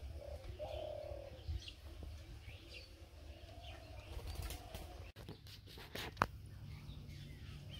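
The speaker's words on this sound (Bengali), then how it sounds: "আর এই পাশে কোন গাছে যে ঘুঘু পাখিতে ডাকাডাকি করে আনছে।" A ghughu dove calls from a tree beside a village house, faint and distant in low cooing phrases over light breeze noise, with a few nearby clicks and a soft flutter.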